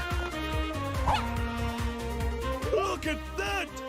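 A puppy in the video game A Hat in Time yips and barks in a quick repeated series over game music, with a few higher whimpering cries mixed in, close and clear.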